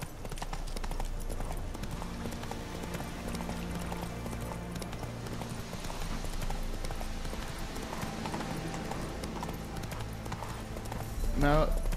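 A horse galloping in the video game The Witcher III, rapid rhythmic hoofbeats clip-clopping steadily throughout, heard beneath a player talking over the game.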